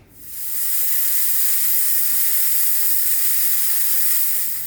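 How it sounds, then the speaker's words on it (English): A pressure cooker holding lamb bone broth lets off steam in a loud, steady hiss that rises quickly and then holds unbroken. "So I'm going to put my lid on, bring it to pressure, and it's probably going to go in the pressure cooker for about 30 minutes"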